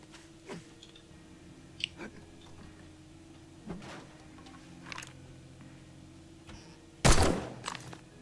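Scattered sharp clicks and pops at irregular intervals in the game 7 Days to Die, then one louder gunshot burst near the end, with quiet room tone between.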